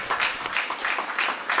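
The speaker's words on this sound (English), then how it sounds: "let's give John a wonderful round of applause" A seated audience gives a round of applause for John at an evening event, a steady wash of many hands clapping at moderate distance, heard on its own.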